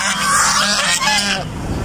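A goose honks loudly and close by, giving a harsh, raspy call that runs for about a second and a half before trailing off.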